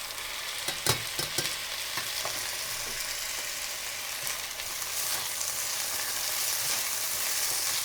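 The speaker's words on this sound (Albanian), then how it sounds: "Tash këtu po skuq pak orizin" About 200 grams of freshly rinsed rice fries in a pan, a continuous close sizzle with scraping stirs and a few clacks early on, growing slightly louder toward the end.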